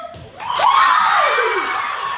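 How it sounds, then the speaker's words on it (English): A studio talk-show audience cheers and whoops loudly, a sustained wash of crowd noise with high shouts rising over it. "Can we get a round of applause for our first ever clone on the Stacey Jones Show?"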